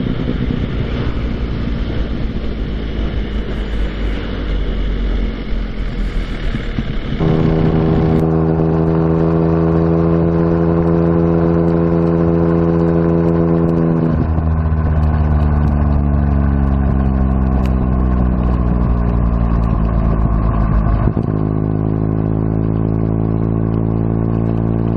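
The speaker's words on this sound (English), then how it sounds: "So we're in 5th gear at 40 and the bike is more than happy." A motorcycle rides along in fifth gear at about 40, its engine a loud, steady low drone with shifting harmonic tones as the revs change slightly, heard close up without any talk.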